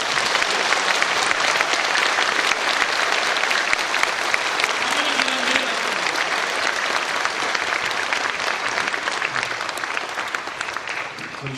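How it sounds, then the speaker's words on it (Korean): Warm, sustained applause from a church congregation at a dedication thanksgiving service for a new sanctuary and vision center, a dense roar of many hands clapping for over ten seconds and fading slightly at the end. "뜨거운 박수로"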